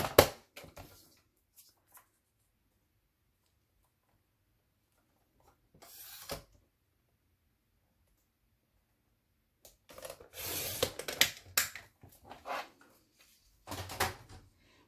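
Scrapbook paper is trimmed down to a 2-inch strip on a paper trimmer, giving short dry scraping and sliding bursts close by, separated by long silent pauses, with a longer run of rasping cuts near the end.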